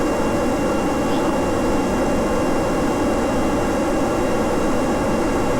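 Aircraft engine roaring steadily during a slow takeoff run down the runway in Kerbal Space Program, a constant loud jet-like drone with no talking.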